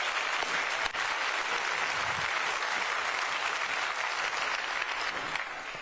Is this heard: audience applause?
yes